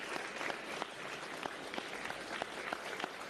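Audience applause for politicians at a Canadian announcement on handgun legislation, steady crisp clapping from many hands, fairly distant and even throughout.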